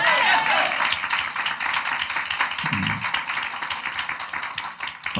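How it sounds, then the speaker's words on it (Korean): Congregation clapping during a Sunday morning church service, a dense spread of hands applauding from a crowd, steady and moderately loud with a brief voice partway through. "먼저 우리 하나님께 박수로 영광 돌리겠습니다."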